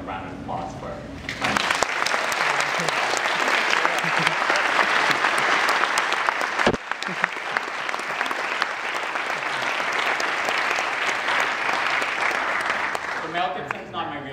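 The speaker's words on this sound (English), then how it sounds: "I want to give them a round of applause for it" An audience claps in a sustained round of applause after a final presentation, a dense close patter holding steady for several seconds before tapering off near the end.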